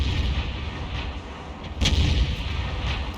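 A tank cannon shot and hit in the video game World of Tanks, a booming low blast with a sharp crack partway through over a dense rumbling battle backdrop, loud and close.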